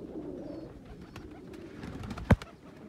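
Soft, low pigeon coos murmur in the background, followed by a single sharp knock near the end; otherwise fairly quiet.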